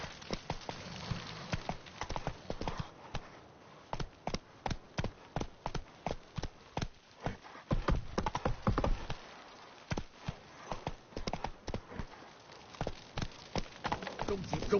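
In The Witcher 3, the horse Roach gallops in a steady clip-clop rhythm of hoofbeats, close and fairly loud, with brief speech over it.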